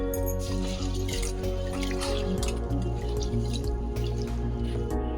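Water is poured over washed rice and urad dal with fenugreek seeds in a bowl to soak for paddu batter, making a steady, close trickling and splashing that continues without a break and with no talk.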